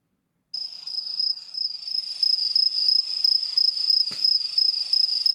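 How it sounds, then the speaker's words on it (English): Crickets chirp in a steady, loud, high-pitched trill that starts abruptly and continues alone without pause. "Crickets."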